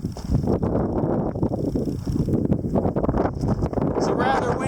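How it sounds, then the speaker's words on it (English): Steady, loud wind buffeting a microphone outdoors in Nevada, with broadband rumbling gusts throughout and a faint high tone in the background. "is a rather windy place, as you're finding out right now"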